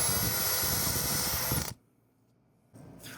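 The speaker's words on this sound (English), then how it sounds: "we're going to be drilling a 1/2 inch hole down about 1 inch" A power drill bores a half-inch hole about an inch deep into a wooden cube clamped in a vise. The motor whirs loud and steady, cuts out abruptly, then briefly starts again.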